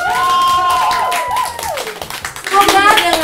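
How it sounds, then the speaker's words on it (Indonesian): Audience clapping at the close of a music performance on a show, a short burst of hands rising at the end over a host's talk. "Tepuk tangan kita."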